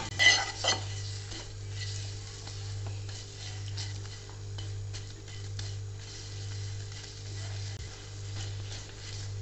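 Jaggery melting in a pan with desi ghee while being stirred for a makhana recipe with fennel and carom seeds: a soft, continuous scraping and sizzling with a slow, rhythmic stirring pulse and faint clinks of the utensil.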